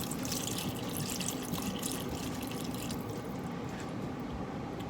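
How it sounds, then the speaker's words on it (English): Water pours steadily into a pot of bone broth on the stove, a continuous splashing and trickling stream with no talking. "I'm gonna go ahead and add a little bit more water."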